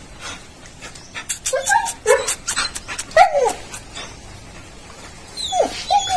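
A dog whimpers and whines in high, rising cries close by, broken up by quick bursts of panting and a few short yips. Faint background noise sits beneath the sounds.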